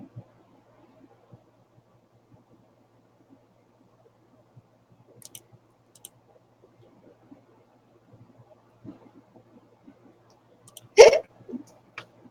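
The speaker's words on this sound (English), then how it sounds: "now I've got hiccups" A single sharp hiccup from a person, loud and sudden near the end, after a long near-silent stretch with faint scattered clicks.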